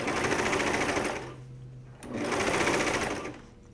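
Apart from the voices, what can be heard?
Brother cover stitch machine sewing a hem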